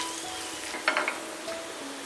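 Dried red chillies sizzle in hot oil with urad dal and toor dal, a steady close frying hiss with a few brief crackling pops as the chillies go in.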